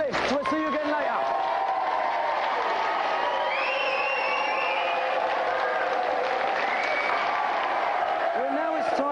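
Studio audience at a televised video game show applauds and cheers for two finalists, a steady dense wash of clapping and crowd noise lasting throughout, fairly loud and continuous.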